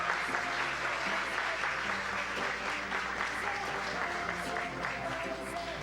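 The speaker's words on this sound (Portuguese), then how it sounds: "nós recebemos um aplauso para a equipe vencedora de hoje, para todas as equipes" An audience at a regional school knowledge gincana applauds the winning team, a steady, dense wash of clapping that holds evenly throughout, with some voices mixed in.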